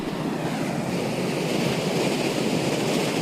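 Incoming tide waves wash steadily onto Kelva beach in Palghar, near Mumbai, making a continuous close roar of surf mixed with wind buffeting the microphone, with no pauses and no voices.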